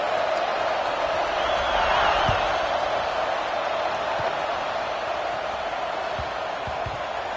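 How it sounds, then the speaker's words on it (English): Stadium crowd at a college football game between Oregon and USC, a dense, steady roar of many voices filling the whole stretch, loud and continuous with no lulls. "this crowd is buzzing after that last score"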